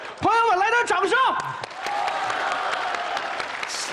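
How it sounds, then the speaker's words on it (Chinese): Applause from an audience at a crosstalk comedy show swells up right after a performer's sung Peking opera phrase and carries on as a steady, moderately loud patter of clapping. "朋友们来点掌声"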